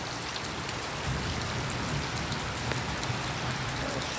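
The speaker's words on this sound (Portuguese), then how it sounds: "muita chuva" Heavy rain pours steadily in Acre, Brazil, a dense, continuous hiss of drops drumming on surfaces, loud and unbroken throughout with no voices.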